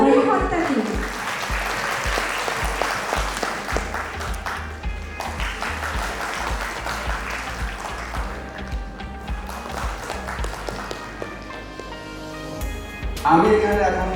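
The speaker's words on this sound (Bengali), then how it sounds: "জোরে হাততালি" Loud, dense applause fills a school farewell ceremony for SSC 2022 students at RBC Academy. The clapping crowd sustains it throughout, with voices and sound from the hall mixed in and a fresh swell near the end.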